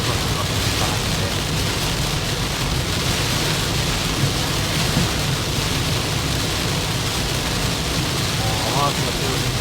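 Heavy typhoon rain pelts a moving car in Atsugi, a steady dense hiss of downpour with a low road and engine rumble underneath, continuous and loud throughout.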